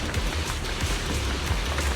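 Steady rain falling in a video game, a dense, even hiss of drops on surfaces that continues without pause through the whole moment, with no voices.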